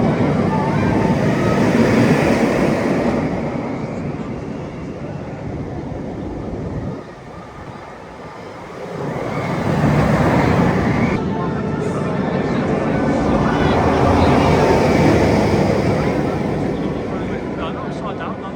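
Riding the Galactica roller coaster at Alton Towers: loud, steady rumbling and rushing wind noise roll past, with a brief dip before the roar builds again, and voices are audible over it.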